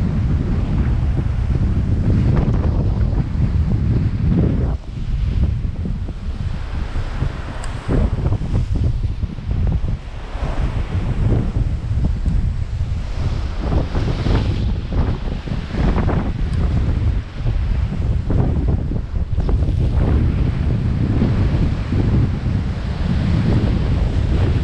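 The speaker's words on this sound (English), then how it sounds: "It's windy." Strong wind buffets the microphone continuously in loud, low rumbling gusts, with surf-like roaring washing underneath throughout.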